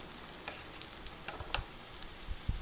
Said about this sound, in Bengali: এইভাবেই আমি সব বড়াগুলোকে ভেজে নেব